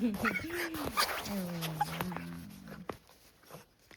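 A pet dog whimpers and yips in greeting at close range, its high, wavering whines rising and falling over the first two and a half seconds before fading out.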